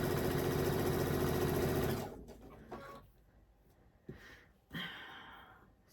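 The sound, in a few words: sewing machine stitching quilt block pieces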